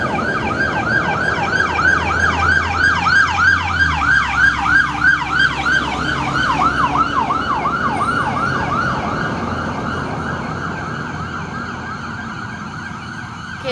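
A loud hazmat team vehicle siren wails steadily in rapid rising-and-falling cycles, close by, then eases slightly as it moves past.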